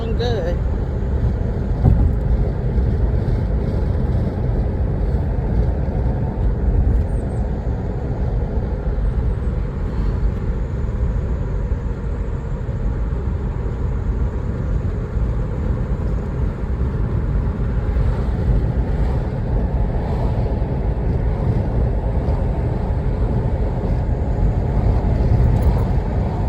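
A car driving on a road during a driving lesson gives a steady low engine and road rumble throughout, with a voice talking intermittently over it inside the cabin.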